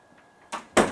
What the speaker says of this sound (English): And I open the door